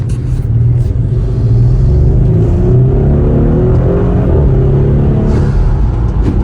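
An Audi B9 SQ5 with an upgraded transmission mount and insert accelerating hard, its engine a loud, continuous rumbling roar that climbs in pitch steadily, close and alone.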